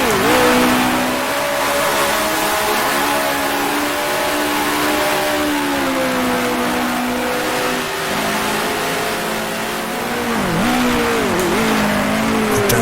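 A 1966 Formula One car in the Grand Prix Legends racing game, its engine screaming continuously near the rev limiter, pitch holding then dipping on downshifts toward the end, loud and close with no talk.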